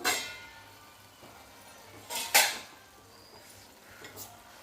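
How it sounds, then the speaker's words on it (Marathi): Tomato gravy fries with onion paste in a pan, a faint soft sizzle broken by a few sharp stirring scrapes and clinks of a utensil against the pan. "कांद्याच्या पेस्टसोबत भाजून घ्यायचं छान त्याला आपण तेल सुटेपर्यंत भाजून घ्यायचं"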